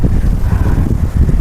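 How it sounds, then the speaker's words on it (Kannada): Cold wind gusts across the stone steps of Chamundi Hill, buffeting the microphone in a constant, loud, low rumble. "ತುಂಬ ಗಾಳಿ ತಣ್ಣಗೆ ಬೀಸ್ತಾ ಐತೆ."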